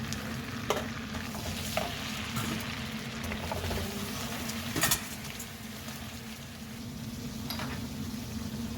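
Masala sizzling and being stirred in a frying pan, a steady crackling fry with scraping spoon strokes throughout, a few louder clinks near the start and middle, no voices.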